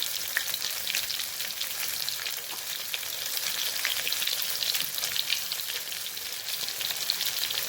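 Soya chunks frying in groundnut oil, a steady bright crackling sizzle with dense popping, close and continuous throughout.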